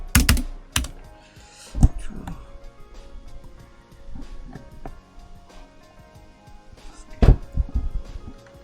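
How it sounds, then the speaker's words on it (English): Typing on a computer keyboard during a speedrun of the game I Wanna QoQoQo, with sharp close key clicks in irregular bursts, a few loud hard strikes standing out over a quiet background. "你的键盘声有点大，可以小一点吗？"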